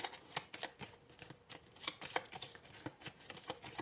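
Tarot cards are shuffled and drawn by hand in a series of quick, crisp riffling and slapping bursts, close and fairly quiet, with no talking.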